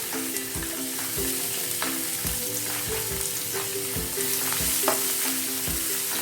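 Finely chopped onion frying in hot oil with cumin, turmeric and green chili, a dense steady sizzle broken by regular spatula knocks and scrapes against the pan, close and loud, no voices.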